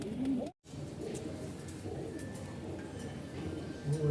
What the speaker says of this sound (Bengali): কত সুন্দর কবুতর আছে সামনে লাগা